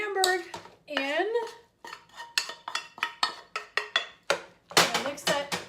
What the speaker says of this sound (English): So I'm just going to put the Hamburg in.